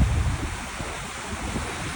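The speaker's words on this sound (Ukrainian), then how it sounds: "вода так прямо тече" Water at Niagara Falls roars as a steady, dense rush. Wind buffets the microphone, and no voices are heard.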